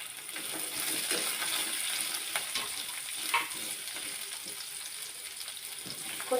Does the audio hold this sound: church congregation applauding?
no